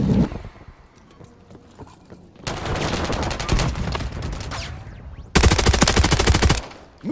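AMR9 gunfire in Modern Warfare III during Hardpoint on the Skidrow map: a quieter lull, then two loud, sustained bursts of rapid automatic fire, the second sharper and closer.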